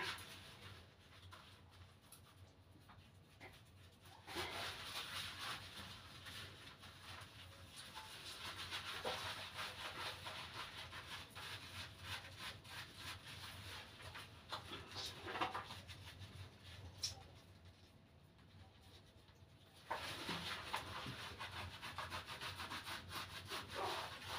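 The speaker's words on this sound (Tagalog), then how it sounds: "Kuskusin natin kasi para matanggal yung mga kuto niya." A pet dog is scrubbed with soap during a bath to remove lice, giving long stretches of steady close rubbing and brushing that swell and fade in bursts, with no talk.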